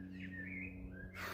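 A pet blackbird, reported as injured, gives a few thin whistled chirps, brief and fairly faint, over a steady low hum from the room.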